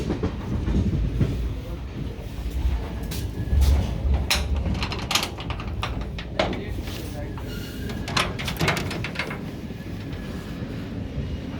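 The Chitrakoot Express departs Katni Junction and runs through a loop line, its wheels clattering in a rapid irregular rhythm over rail joints and points, close and fairly loud, with someone talking over it.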